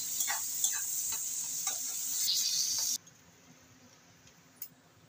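Shrimp sizzling in hot oil, a bright steady hiss with a few light clicks of stirring, then the sizzle cuts off abruptly about halfway, leaving near silence and one small tap.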